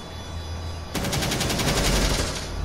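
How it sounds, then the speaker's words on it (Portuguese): Rapid automatic gunfire from the player's own weapon in Rainbow Six Siege starts abruptly after a second of steady game background and continues as a loud, even stream of closely spaced shots. "Tá dando som do tiro da minha própria arma"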